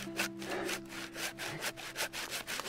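A hand saw cuts through wood outdoors at a winter chalet in steady back-and-forth strokes, each rasping pass close and moderately loud, repeating in an even rhythm with no talking.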